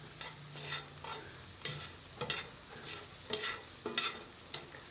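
Paella rice stirred in a pan over a campfire, a string of soft scraping and shuffling strokes against the pan, each one separate, over a faint sizzle, heard close up and quiet.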